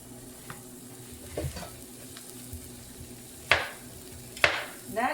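Zucchini slices browning one layer at a time in a frying pan, a low steady sizzle broken by several sharp utensil scrapes and clinks against the pan, close and fairly quiet.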